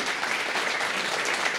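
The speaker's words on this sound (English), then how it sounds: "really deserve, okay, a big applause for getting such high marks in Step 1." Applause at a medical college white coat ceremony for award-winning students, a steady, fairly faint wash of many hands clapping heard alone.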